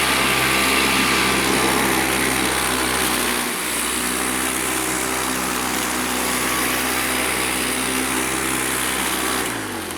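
A hover lawn mower floating on its air cushion runs on a lawn slope, giving a loud, steady, close engine drone with a high whine that holds constant throughout with only a slight dip midway.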